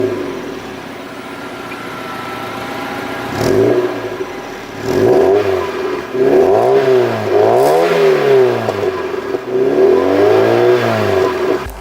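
A Mazda MX-5 with its old exhaust idles roughly, then revs up several times in quick succession, each rise and fall loud and throaty with a raspy exhaust rumble.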